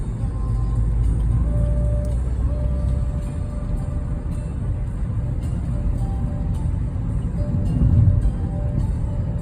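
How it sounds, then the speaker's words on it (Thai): A car drives along narrow, small roads in Switzerland near Gstaad in the Bernese region. A steady, close engine and tyre rumble fills the whole stretch, with a faint whine over it and a brief louder swell near the end. No one speaks. "ขับรถมากเกือบถึงสองชั่วโมงเลยจ้ะพี่น้อง"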